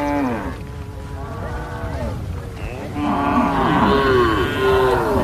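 Several cattle moo in long, overlapping calls at a Wodaabe herders' camp, fairly close and loud, with a steady low rumble beneath.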